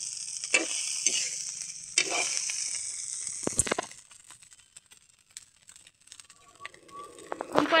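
Milkfish sisig frying in a pan, bursts of sizzling and spatula scraping come in uneven clusters, loud at first and then thinning to softer crackles before picking up again at the end.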